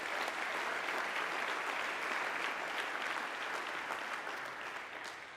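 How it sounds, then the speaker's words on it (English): Sustained applause from a graduation commencement audience, a dense even wash of many clapping hands heard at moderate distance, holding steady and then easing slightly at the end. "I think that's worthy of a round of applause."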